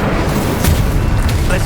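An Incendio fire spell blast in Hogwarts Legacy: a loud, sustained booming whoosh with rumbling bursts that fills the whole moment and stays dense throughout.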